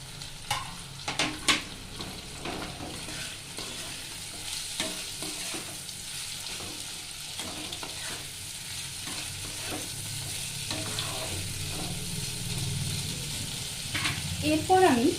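Fried eggplant, boiled potato and cumin powder stirred in a pan, with steady low sizzling broken by scraping and clinking spatula strokes throughout, loudest near the start and end.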